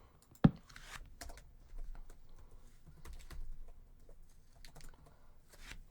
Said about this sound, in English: Quick typing.